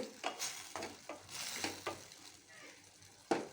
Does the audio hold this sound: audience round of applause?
no